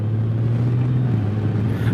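Honda Goldwing DCT motorcycle cruising along a country road, a steady low engine drone with constant road and wind rumble throughout, no voices.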